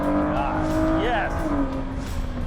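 A Ford GT with a small V6 runs at part throttle, its engine burbling and popping steadily up close with a brief rising whine partway through, while voices talk over it.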